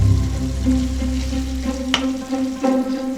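Slow-cooked meat, braised about six hours until tender, sizzles steadily as it drops into a freshly made sauce in an Indian restaurant kitchen, with a brief sharp clatter partway through.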